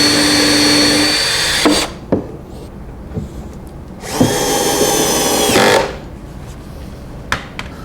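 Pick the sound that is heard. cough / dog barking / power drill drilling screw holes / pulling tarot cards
power drill drilling screw holes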